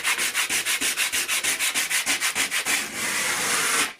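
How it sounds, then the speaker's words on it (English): Wood being hand-sanded for a weathered look, with rapid rhythmic back-and-forth rasping strokes, about four per second and close up, ending in a longer continuous scrub. "how much you want to sand it down will also depend on how much you want to"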